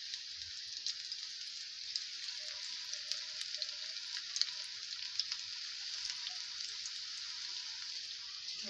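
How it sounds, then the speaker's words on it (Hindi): Pakoras dropped by hand into hot oil fry with a steady, fine crackling sizzle that holds evenly throughout, with small pops scattered on top and no voices. "यहाँ पे जो है ऑयल हमारा गर्म है, अब इसमें जा रहे हैं पकौड़े"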